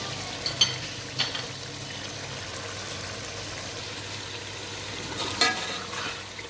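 A spoon stirring masala frying in oil in a pot for tahari, a steady low sizzle with a few sharp scrapes and clinks of the spoon against the pan, close and fairly quiet, no talking.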